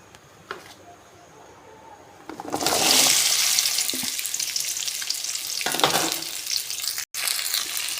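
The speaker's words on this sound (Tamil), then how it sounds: "இந்த ஆயிலில் இந்த வெண்டைக்காவை ஒரு பத்து நிமிஷம் வதக்கி எடுத்துக்கலாம்" Okra sliced for sambar dropped into hot oil in a pan, a quiet start with faint clatter, then a loud, sustained sizzle bursts up and keeps crackling with occasional stirring scrapes.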